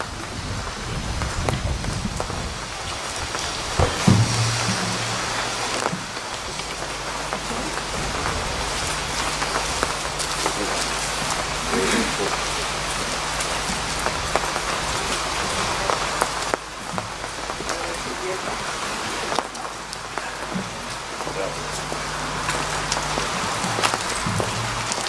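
Steady rain falls throughout at an outdoor service at a park music pavilion, a dense even hiss of drops on surfaces, with occasional low rumbles and a brief thump near the start.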